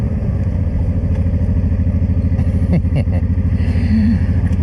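Motorcycle fitted with an exhaust baffle rides off on a mountain road, its steady loud engine drone filling the clip with a pulsing low rumble and some brief clatter midway.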